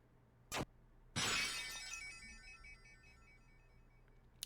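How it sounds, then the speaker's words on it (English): Glass shatters in Deltarune, a quiet game scene: a short sharp chink comes first, then a bright crash that scatters into tinkling shards and fades over a couple of seconds. "I love shattering glass"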